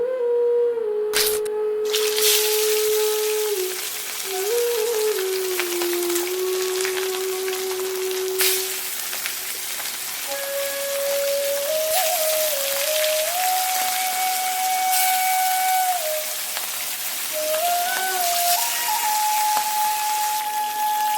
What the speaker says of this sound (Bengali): সর্ষের তেল দিয়ে মাছগুলোকে ভেজে নেব